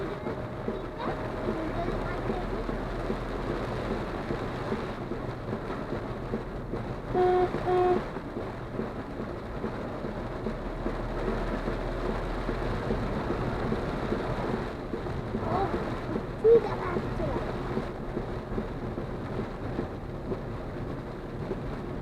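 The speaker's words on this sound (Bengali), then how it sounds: "যা বৃষ্টি হচ্ছে" Extremely heavy rain beats on a car driving along an expressway and national highway, a constant dense roar of water and road noise, with people talking inside over it.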